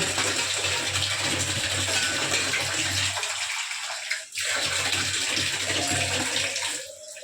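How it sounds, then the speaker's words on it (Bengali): Water runs steadily from a household kitchen tap into a container, loud and close, briefly stopping midway before resuming. "তো তখন কি করব বলো তো একটুখানি জল নিয়ে নেব"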